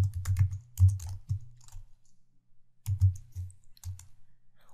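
Computer keyboard keys clatter in two quick bursts of typing while code is entered in Flash Builder, with a short pause between the runs of close, crisp clicks.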